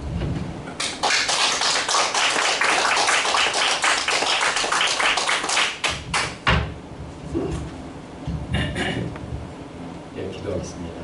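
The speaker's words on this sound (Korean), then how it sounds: "또 감사합니다 하는 뜻에서 우리 박수로 환영하겠습니다" A congregation at a prayer retreat applauds to welcome a pastor, sustained close clapping that fills several seconds before thinning into scattered claps, with a voice speaking over the end.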